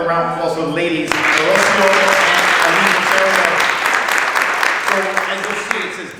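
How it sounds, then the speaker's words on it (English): An audience at a city employee appreciation event applauds the ladies, loud clapping that breaks in abruptly and holds steady, with a speaking voice beneath it at the start and at the end. "Let's have another round of applause for the ladies."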